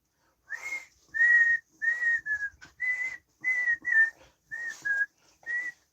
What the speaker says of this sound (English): I wasn't whistling for you to come up here